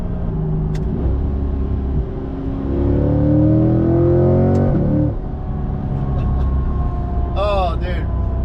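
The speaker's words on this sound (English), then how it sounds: "the higher you get up in the RPM range, you just hear that intake sucking in all the air" A Corvette C8 fitted with a Halltech Hornet intake revs hard and climbs in pitch to a loud peak, drops back, then rumbles at idle. Induction noise rises with the revs, and a voice exclaims near the end.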